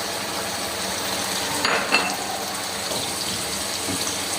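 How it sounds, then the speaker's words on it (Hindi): Ginger garlic paste goes into a pan of frying chicken gizzards and neck pieces, giving a steady, moderate sizzle with a brief louder crackle and stirring scrape partway through. "अब हम इसमें जो है ना अदरक और लहसुन का पेस्ट बनाए ये डालेंगे"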